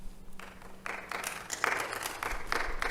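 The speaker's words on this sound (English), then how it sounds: "Okay, no applause, please." Scattered clapping at a county board of commissioners meeting starts with a few hands and builds into moderate applause from the room, fairly close and without any talk over it.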